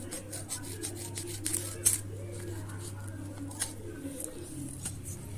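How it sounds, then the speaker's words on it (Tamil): Paper being cut by hand with scissors to make a small note at home, a series of close, soft rasping snips and rubs, with a low steady hum behind and someone speaking intermittently. "ஓகே, இருங்க நான் ஒழுங்காக கட் பண்ணிக்கிறேன்."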